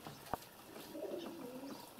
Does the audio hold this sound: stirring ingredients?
no